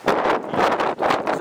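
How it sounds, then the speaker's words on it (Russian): Strong wind gusts hard across an outdoor street near the sea in Lazarevskoye, buffeting the microphone in loud roaring bursts with a brief lull between them. "Такой ветер аж сдувает, сдувает головной убор."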